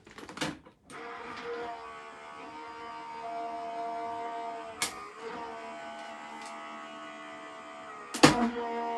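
A die-cutting machine draws card sandwiched between two cutting plates through its rollers, a steady motorised hum and whir running several seconds, bracketed by sharp clunks as the plates enter and leave.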